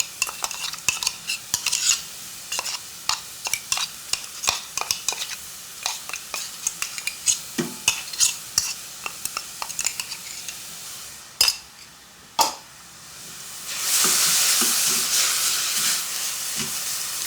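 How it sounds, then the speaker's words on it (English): Onions, ginger and garlic sizzle in a pan for a turkey tikka masala while a utensil stirs them in repeated scraping strokes, then a louder, steady hiss of frying swells up toward the end. "So give this onions a stir"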